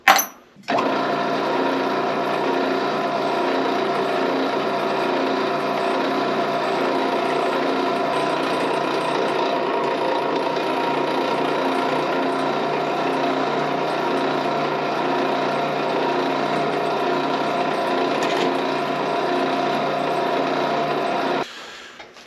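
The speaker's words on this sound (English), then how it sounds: "try drilling a hole and see if that goes any better" A steady, continuous whine of a power drill boring through material for about twenty seconds, starting and stopping abruptly, with no talking.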